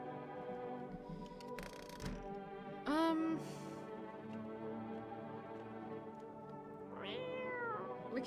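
A cat in a video game lets out a rising meow, and a second longer meow follows a few seconds later. Both sound close and clear over a busy game soundscape, with no talk.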